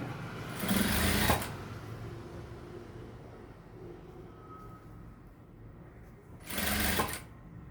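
Two loud bursts of a sewing machine running fast, stitching rope hangings for a blouse, separated by a quieter pause with faint room noise.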